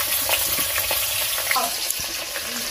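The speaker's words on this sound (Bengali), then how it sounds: "কড়ার মধ্যে আমি আলুগুলো দিয়ে দিলাম। এবার আলুটা লাল লাল করে ভেজে নেব।" Potatoes fry in oil in a wok, a steady dense sizzle and crackle running throughout at close range, with a few faint clinks and scrapes on top. Nobody talks.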